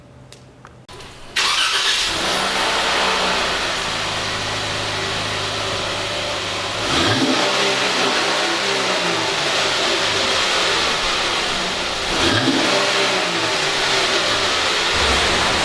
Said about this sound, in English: I'm gonna do just a little bit of the stock exhaust